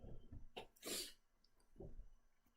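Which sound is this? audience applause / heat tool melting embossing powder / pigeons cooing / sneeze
sneeze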